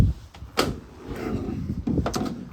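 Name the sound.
opening rear doors of Ford Transit Custom van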